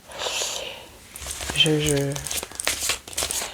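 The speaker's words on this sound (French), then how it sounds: "Moi je tire les cartes." Tarot cards are drawn and handled during a reading, giving close papery crinkles and rustles while a voice talks over them.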